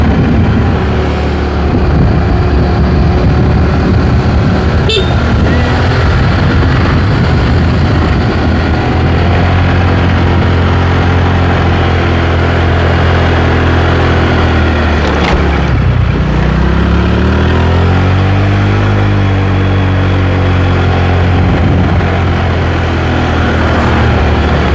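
A van's engine roars loudly and steadily as it climbs the steep, winding mountain road toward Sembungan, Kejajar, Wonosobo. The revs rise and fall through the bends, and the low drone continues the whole way with no talk.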